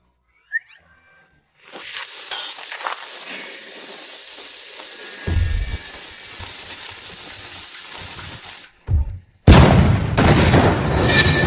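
Cannon fire from ancient-style heavy guns in a battle scene, heard as a long roaring, hissing blast followed by a short pause and then a second sharp, loud explosive burst, with no talking over it.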